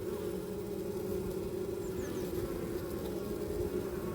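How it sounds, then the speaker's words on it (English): A dense, continuous hum of many honeybees buzzing together at a hive entrance, steady and close, with no voices over it. "Lovely noise, but you can see the guard bees at the front."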